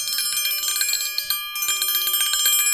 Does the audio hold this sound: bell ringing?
yes